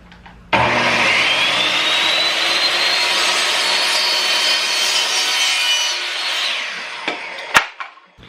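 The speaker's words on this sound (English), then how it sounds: "One of the great power tools that Becky's allowing me to use is her radial arm saw here" A radial arm saw slices through a board in one continuous cut, a loud, sustained whining roar that holds for several seconds, then winds down, followed by a few sharp knocks and clatters.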